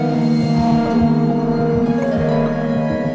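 Beetronics Seabee guitar effects pedal playing a sustained, swelling guitar tone with pulsing modulation, steady and loud throughout with no voices.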